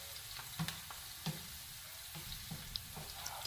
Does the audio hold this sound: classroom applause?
no